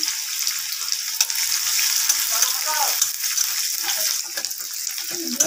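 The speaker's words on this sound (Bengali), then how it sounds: "এখন যখন তরকারি বানাবো, তেলটা গরম হয়ে গেছে, পেঁয়াজ দিয়ে দিলাম" Chopped onions dropped into hot oil for a vegetable curry, giving a loud, steady, hissing sizzle close by that runs the whole time with small crackles and stirring noises.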